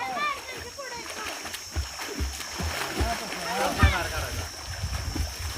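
Water splashes and slaps in a deep village well as children swim, with bursts of splashing echoing off the enclosed walls under steady talk and children's voices.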